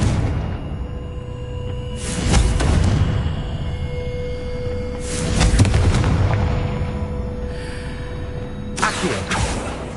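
Confringo fire-blast spell explosions in Hogwarts Legacy, three separate booming bursts spaced a few seconds apart over a rumbling ambient background, each with a short whooshing tail.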